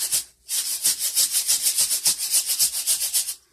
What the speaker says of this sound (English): I will just take a little piece of sandpaper and just lightly go over it